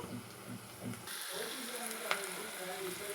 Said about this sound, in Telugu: ఫ్రెండ్స్ ఆనియన్స్ అయితే వేగుతున్నాయి